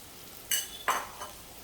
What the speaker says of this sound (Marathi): आणि आता अशीच मस्त दाबून दाबून ही फ्राय करायची